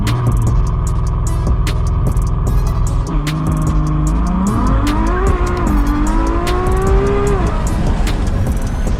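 A Ferrari 812 Superfast roars off the line under launch control, its V12 screaming upward through several quick gear changes at full volume, with tire noise and crackles around the shifts.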